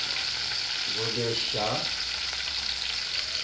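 Tuscan sausage frying in a pan, a steady broadband sizzle with short scraping stirring strokes in the middle, close and continuous; a voice speaks briefly near the start.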